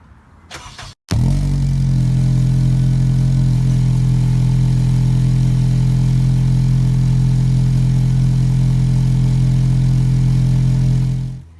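An Acura RSX engine fires up after a short crank and settles into a loud, deep, raspy drone with no muffler that holds steady, then cuts off at the end.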